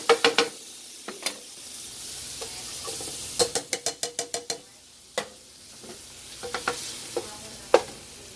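Garlic and Rotel sautéing in a pan over turned-up heat: a steady close sizzle broken by rapid clattering scrapes and taps of a utensil stirring against the pan in short bursts.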